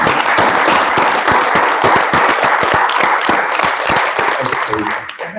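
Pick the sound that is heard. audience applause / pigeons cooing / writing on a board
audience applause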